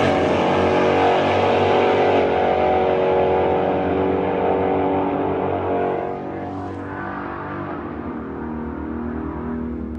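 Drag racing car making a full pass down the track, a loud continuous engine roar with harmonic whine that fades slightly as it pulls away, no talk over it.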